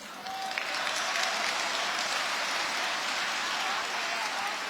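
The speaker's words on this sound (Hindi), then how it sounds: "थोड़ी तालियां कम है पीछे वालों" Steady applause from an audience at a Hindi poetry recitation, a dense even wash of many hands clapping without letup, fairly close and with no voices on top.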